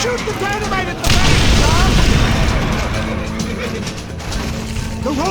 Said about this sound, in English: Shoot the dynamite at the back